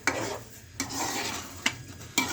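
A spoon stirring and roasting eggplant and pea bharta in a pan, giving soft scraping and gentle sizzling, with a few sharp taps of the utensil against the metal at irregular intervals.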